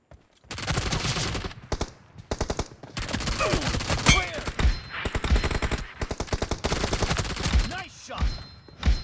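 Rapid automatic gunfire in a team deathmatch shooter, dense bursts of shots crackling in quick succession with short pauses between volleys, loud and close, with a voice briefly speaking among them.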